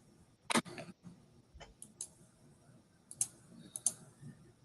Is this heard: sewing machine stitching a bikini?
no